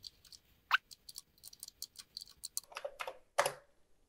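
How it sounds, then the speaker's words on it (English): Someone types a command on a vintage computer keyboard, giving a brisk, irregular run of light clicking keystrokes, close and fairly quiet, with no speech. "You can type in a command here."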